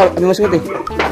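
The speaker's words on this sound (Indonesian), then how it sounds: "Ini ada merpati lagi nih" Pigeon cooing close by, soft repeated coos mixed with a speaking voice over the whole short stretch.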